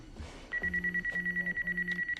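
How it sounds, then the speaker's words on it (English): A phone rings in a Scream movie, its repeated electronic trill pulsing in steady bursts, fairly loud and close, with a brief voice just before it starts. "Just let it ring."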